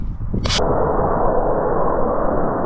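A model rocket fired on a D+ motor: a sharp, short ignition crack followed by a steady, loud roaring hiss of the burning motor that holds for the rest of the moment.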